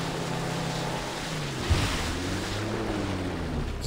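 Motorboat in the video game Far Cry 3 cruising over water, a steady engine drone with rushing spray and wind noise, one brief thump midway, no talking.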